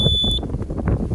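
A single sharp, high-pitched electronic beep from a Ghost Controls automatic gate opener keypad, lasting a fraction of a second, followed by quiet rustling background noise.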